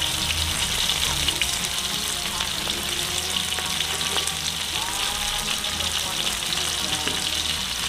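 Garlic frying in a pan while soy-sauce fish is cooked, a dense, steady crackling sizzle that fills the whole stretch with no talking.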